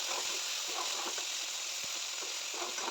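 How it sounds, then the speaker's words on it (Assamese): Boiled jackfruit fries in a kadai with a continuous bright sizzle, scattered soft pops and stirring scrapes close by, and no voices. "মই আনফালে এটা কেৰাহীত মই বইল কৰা কঁঠালখিনি ভাজি লৈছোঁ"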